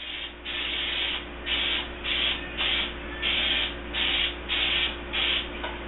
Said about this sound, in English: I'm going to take my cooking spray in my 6-inch springform pan and make sure I coat it very well